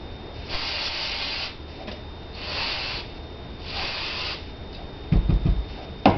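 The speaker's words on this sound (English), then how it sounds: "And I take my brake cleaner that I buy at the automotive store." Brake cleaner from an automotive aerosol can is sprayed onto pistol parts in three short hissing bursts, close by, followed by a few clunks of parts being handled.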